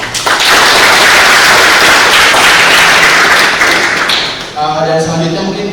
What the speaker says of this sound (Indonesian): Berikan tepuk tangan dulu untuk itu.